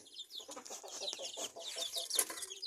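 Native chicken chicks, grown fairly large, peep and cluck in a steady busy chorus at close range, with no talking over them.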